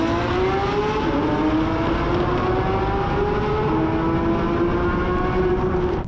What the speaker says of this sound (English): Sound of mighty V8.